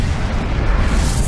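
A supernova explosion sound effect: a loud, sustained, deep rumbling blast that roars steadily through the whole moment with no clear onset or fade, and no voices.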